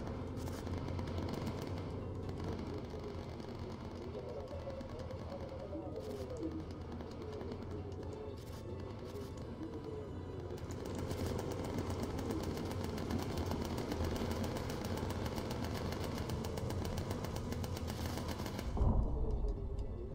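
Gunners on a bomber in Bomber Crew fire at enemy fighters, a steady dense stream of rattling gunfire over a constant droning engine bed for about twenty seconds, with a brief louder burst near the end.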